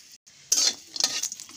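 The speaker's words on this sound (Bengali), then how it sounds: "আমি অল্প তেল দিয়েছি, এখন আমি কুমড়ো বড়িগুলো ভেজে নেব।" Dried pumpkin and lentil bori frying in a little oil: short bursts of hissing sizzle with a light stirring scrape, close and brief, no voices.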